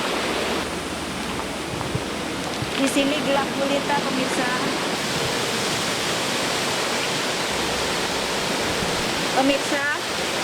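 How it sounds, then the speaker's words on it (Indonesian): Steady, dense roar of a waterfall on the Cilengsi River at Curug Parigi, Bekasi, at night, a continuous rushing wash of falling water filling the whole scene, with someone talking over it. "Ini berada di Sungai Cilengsi, tapi dinamakan sebuah curug."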